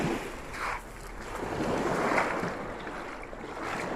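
Sea waves at Aşıklar Koyu beach wash and surge in a broad, steady rush, close by, with gusts of wind buffeting the microphone.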